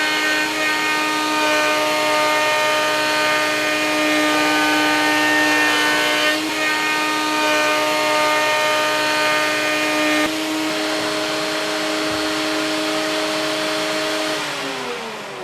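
A router spinning at about 16,000 RPM cuts a crown molding profile into a wood board, giving a loud, steady high whine that runs throughout and winds down in pitch near the end.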